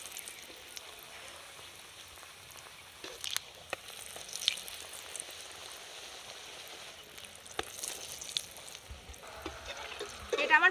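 Pea-stuffed kachori deep-frying in hot oil, a soft continuous bubbling sizzle with scattered crackles and a few louder pops.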